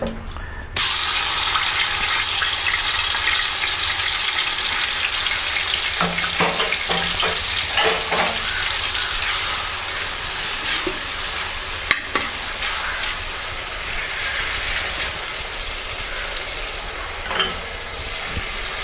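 Crushed shallots drop into hot oil and set off a loud, continuous sizzle that holds steady throughout, with occasional scraping stirs and small crackles close by.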